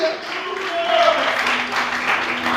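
Church congregation applauding during an evening service, a dense, steady wash of clapping from a crowd, moderately loud and sustained throughout.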